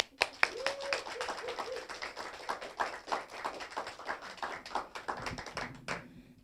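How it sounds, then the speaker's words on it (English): Scattered clapping from a modest live audience, sharp individual claps thickening into a brief round of applause before fading out, with a faint voice near the end. "Please, a big round of applause for Theresa."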